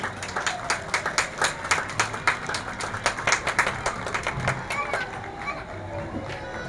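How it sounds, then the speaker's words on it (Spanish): Street crowd at a Fiestas Patrias parade claps in a rhythmic, uneven patter with sharp individual claps standing out, fading toward the end as voices and background chatter continue underneath. "un fuerte aplauso para Baja California Norte"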